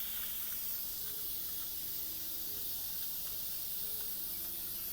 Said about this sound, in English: I'm going to wait until there's no more hissing noise